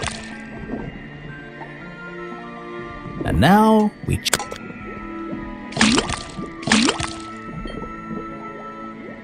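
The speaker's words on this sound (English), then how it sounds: "then tap the faucet." Cartoon liquid pours from a faucet into a cauldron in the detective adventure game Detective Grimoire, heard as a few short bubbly rising gushes and drips, with someone talking around them.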